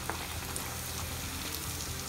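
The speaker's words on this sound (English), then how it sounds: "Oil is hot, as you can see. Let's slowly drop our batura." Batura dough frying in hot oil, a close, even bubbling sizzle that holds steady throughout with tiny crackling pops and no voices.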